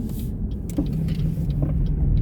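Road traffic rumbles continuously nearby, a steady low car and engine wash with a few brief lighter swells as vehicles pass, no talking heard.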